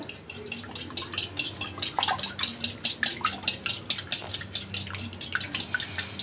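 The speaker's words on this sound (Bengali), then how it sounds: "ডিমটা একটু ফেটিয়ে নেব।" An egg for an oats omelette is beaten briskly in a bowl, a quick, steady run of clinking utensil taps and wet slapping that stays close and continues throughout without speech.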